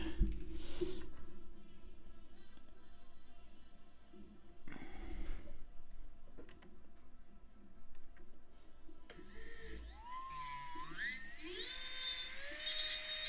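A jeweler's rotary bur grinds steadily into a metal bezel seat while a stone is being set in a closed setting, with a high whine that rises and shifts in pitch toward the end, close and fairly loud.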